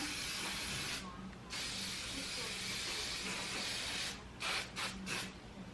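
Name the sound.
hairspray being sprayed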